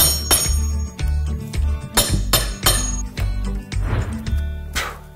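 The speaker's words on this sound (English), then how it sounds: "I'll be using this tool called a Wunderbar and a hammer" A hammer strikes a Wunderbar pry bar to pry baseboard trim off a drywall wall. Repeated sharp metallic clinks ring close by in an uneven rhythm, with dull thuds and creaks between the blows.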